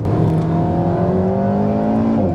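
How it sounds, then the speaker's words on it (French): Alpine A110 R sports car engine and exhaust, a loud, steady drone close by with pitch slowly rising and falling, without clear distinct pops. "ça pétarade dans l'échappement là"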